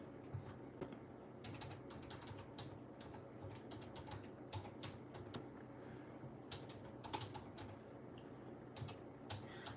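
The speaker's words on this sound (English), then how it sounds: "I think I'm gonna go ahead and type in my websites" Faint, quiet clicking of computer keyboard keys being typed in irregular bursts over a steady low background hum, with no voice.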